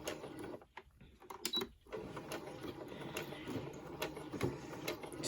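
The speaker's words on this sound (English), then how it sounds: "So we're back at the machine, and we're just going to put a stitch down the edge here, which will keep our pleats in place." Sewing machine stitching down the edge of a pleated, multi-layered fabric face mask, a steady close whirring run with a brief pause near the start before the motor resumes.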